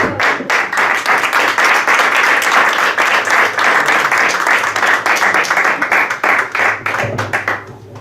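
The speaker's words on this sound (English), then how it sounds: "I would like to show my respect along with you with a big applause for Prabhu." A seminar audience breaks into loud, sustained applause, a dense wash of clapping that holds steady for several seconds before tapering off at the end.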